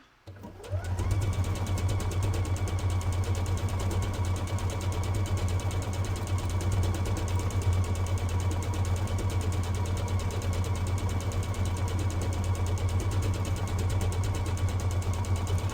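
A brand-new sewing machine stitching out a test stitch, starting up after a brief click and then running as a steady, loud, continuous mechanical whir and rapid needle chatter, alone without speech.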